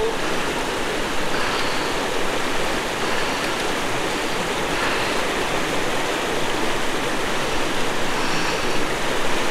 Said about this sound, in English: we're going to ford the Palliser River again